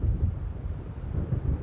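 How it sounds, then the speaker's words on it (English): Low rumbling thunder of a storm rolling in over dark lake waters in the video game Alan Wake, a steady, distant-sounding roll that swells and ebbs without any talking. "It seems there's a storm coming."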